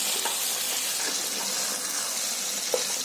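Tomato and onion fry steadily in hot oil, a continuous soft sizzle with faint crackles and a couple of small pops, close by and with no talking.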